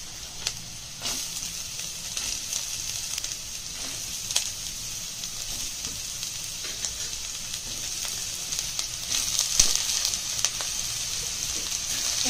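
Ingredients for chicken soup fry in a pan, giving a steady close sizzle and hiss with occasional crackles and pops throughout, and no talking.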